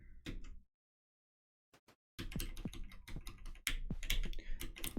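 Computer keyboard keys are hammered in quick irregular bursts, a brief flurry of clicks, a near-silent gap with a couple of isolated taps, then a dense clattering barrage of close, sharp keystrokes.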